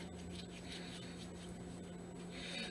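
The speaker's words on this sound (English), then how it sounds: "And I'm going to rub some on my other hand." Skin cream is rubbed onto hands and knuckles, making a soft, steady, close-up friction that runs throughout over a low hum, with no talking.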